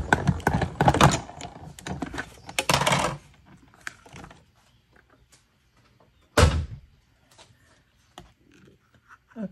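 Paper is cranked through a hand-operated die-cutting machine, giving clattering mechanical bursts in two main runs, then a single sharp thunk and a few quieter clicks in an otherwise quiet room.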